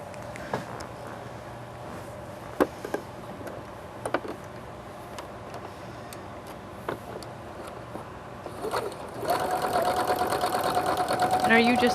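A sewing machine runs a seam along the edge of a hooded scarf, a steady mechanical hum with occasional clicks that builds louder near the end while people talk over it.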